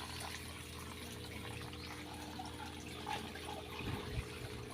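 Water drains out of a pipe behind a house as a steady, faint rush and trickle, with low background hum and a couple of small splashes near the end.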